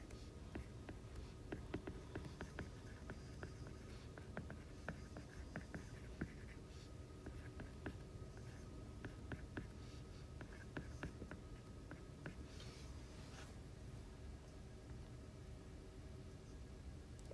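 Someone writes by hand on paper while teaching a math lesson on greatest common factor, giving soft, quick scratching strokes in irregular bursts. They are faint and sit over a steady hiss.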